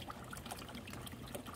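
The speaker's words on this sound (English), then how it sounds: "So we got our phosphoric acid. Just gonna pour that in there," Phosphoric acid is poured straight into water in a plastic container, a soft, steady trickling stream heard close but faint, continuous throughout with no voices.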